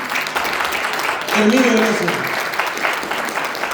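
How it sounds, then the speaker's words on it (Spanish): Church congregation clapping during a Spanish-language sermon, a dense wash of hands under a voice that speaks briefly, the applause swelling in the middle before fading back beneath the talk. "Denle un aplauso, ¿verdad?"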